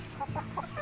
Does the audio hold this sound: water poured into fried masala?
no